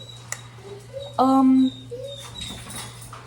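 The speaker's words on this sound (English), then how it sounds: "That's my dog." A single short, high-pitched whine from a dog, brief and tonal, standing out over a steady low hum.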